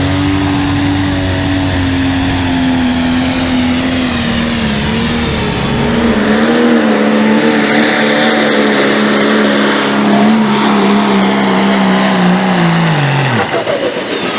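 Pro Stock pulling tractor roaring at full power during a pull at an NTPA Grand National event in Sandwich, a loud sustained engine howl that shifts in pitch partway through and drops off sharply near the end.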